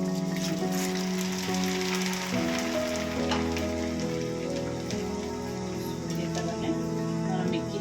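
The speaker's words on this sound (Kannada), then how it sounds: "ಎಲ್ಲವನ್ನು ಕೂಡ ನೀಟಾಗಿ ಥರ ಕ್ರಿಸ್ಪ್ ಆಗೋವರೆಗೂ ನಾವು ಎಣ್ಣೆಯಲ್ಲಿ ಫ್ರೈ ಮಾಡ್ಕೊಳ್ಳೋಣ" Snack pieces deep-frying in oil until crisp give off a continuous bubbling sizzle, steady and close, with a tonal background hum running underneath.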